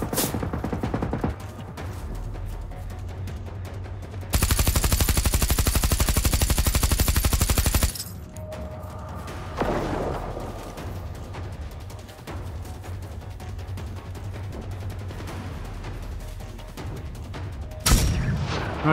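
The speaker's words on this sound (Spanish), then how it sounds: "Este es el problema de la ametralladora, tío, que tienes que entretener mucho disparando." Sustained machine gun fire in the video game Generation Zero, a loud dense burst of rapid shots lasting several seconds, with scattered single shots and game ambience before and after.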